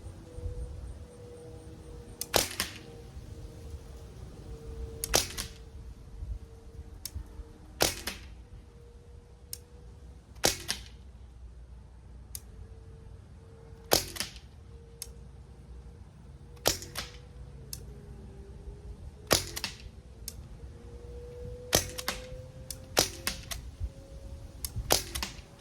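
Crosman 1077 semi-auto CO2 pellet air rifle (.177 caliber) fired at a paper target outdoors, a series of sharp, irregularly spaced cracks over a steady low background hum, with no talk.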